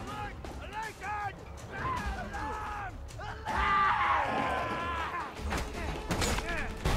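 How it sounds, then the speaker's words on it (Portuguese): Barrel explosion in the Mad Max video game, a loud burst of noisy crash energy around the middle, set against a steady game soundscape with someone talking excitedly throughout. "explosão, sério que não pegou ninguém?"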